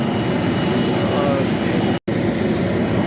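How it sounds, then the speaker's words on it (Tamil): Steady, loud jet engine roar of an IndiGo airliner, a continuous broadband rumble and hiss that holds throughout, broken by a single brief dropout near the end. "ஃப்ளைட்டில் ஏற போகிறோம் இண்டிகோ."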